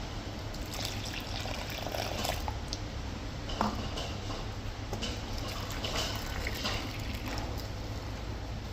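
Water is poured from a clay cup into a mixture in a Jaffna home kitchen, a continuous close trickle and splash holding steady throughout without talk.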